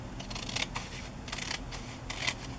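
Scissors snip through paper in several crisp, quiet cuts at an uneven pace, close by.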